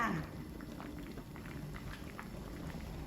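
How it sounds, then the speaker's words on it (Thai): Coconut-milk curry with puffball mushrooms, Southern Thai style, simmering in a pot: a steady low bubbling and popping hiss that runs continuously at moderate level, with no voices over it. "เดือดพอประมาณแล้วนะคะ"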